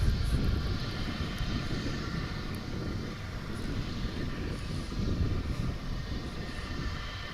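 Embraer 145 regional jet at a large Texas airport (DFW) on a clear day, its engine roar steady and moderately loud throughout, with broadband jet noise and no talking.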